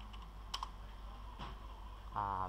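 Sparse keystrokes tap on a computer keyboard, a few scattered clicks close by against a steady background hum, ending in a brief tonal whine.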